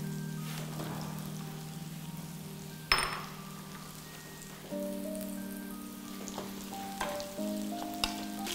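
Raw mango pieces hit hot oil in a frying pan with a steady crackling sizzle, a sharp clatter as they drop in, then a brighter, busier spitting hiss that continues close and alone.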